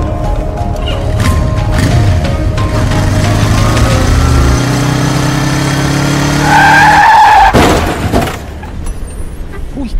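A motorcycle skids and crashes in a radio advertisement: a rising engine drone and tire skid lead into a loud impact with a sharp, bright scrape, then a brief lull, all without speech.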